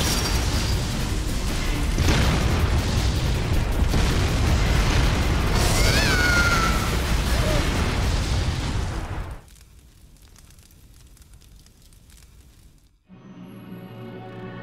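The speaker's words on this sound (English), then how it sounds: "What happens if you don't react to an explosion?" A big explosion in Resident Evil: The Umbrella Chronicles rolls on as a loud, sustained roaring blast with crackling debris for several seconds, then drops to a quiet rumble before a final low tone.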